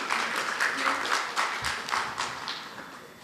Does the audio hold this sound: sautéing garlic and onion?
no